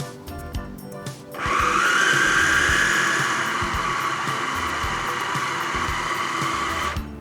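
A food kneading machine starts up and runs with a steady, loud motor whir and a high tonal whine, continuous for several seconds after a brief quieter lead-in.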